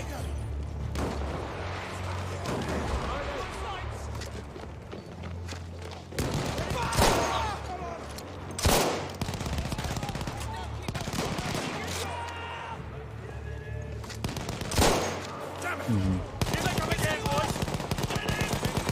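A Lewis gun and other machine guns fire in Battlefield 1, sustained rattling bursts with heavy booms in between, loud and continuous, while someone talks over the battle.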